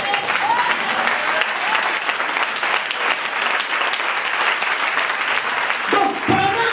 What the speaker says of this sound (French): lève-toi et acclame le Seigneur